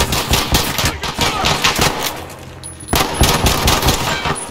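Loud automatic gunfire in Call of Duty, rapid bursts with a short pause midway before firing resumes, close and dominant, with faint voices underneath.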